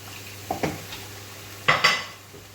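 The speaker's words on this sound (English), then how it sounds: "now I'm going to add the diced courgettes" Diced courgettes drop into a pan of beef and oregano for a butternut squash lasagne, making a few short clattering thuds and scrapes over a faint steady sizzle.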